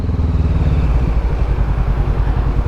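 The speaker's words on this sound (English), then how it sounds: "Motorbike." A motorbike roars past close by, its loud engine note rising then breaking into a rapid throbbing rumble as it goes, with no talk over it.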